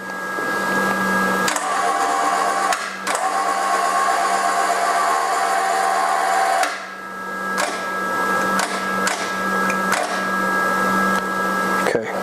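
A spring tester compresses a 275-pound spring by one inch, giving a steady mechanical whine with a constant hum that runs for several seconds, cuts out, then breaks into short bursts and clicks.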